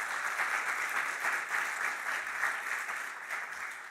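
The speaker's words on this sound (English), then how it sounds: "please clap for Oscar" Audience at a conference panel on scaling the response to global malnutrition applauds steadily and densely for several seconds, with no break.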